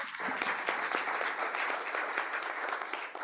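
A crowd applauds a hackathon team after its pitch at an awards session, steady dense clapping that carries evenly from start to finish.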